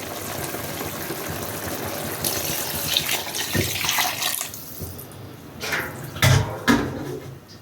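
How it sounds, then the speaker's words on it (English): Water pours and gushes into a pot of Jamaican-style curry beef, a steady splashing stream that swells in bursts toward the end, with no talking. "So I'm going to add some water to it now."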